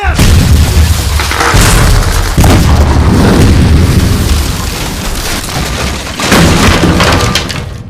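Loud, dense blasts of heavy booming cannon fire explosions rolling continuously with crackling debris and rumble throughout.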